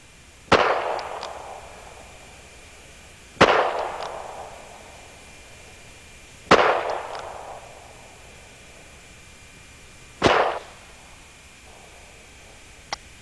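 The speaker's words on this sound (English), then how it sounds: "squeeze the trigger. And keep on shooting." Four sharp handgun shots fired at a target, spaced a few seconds apart, each a loud crack followed by a decaying ring and echo in an open outdoor setting.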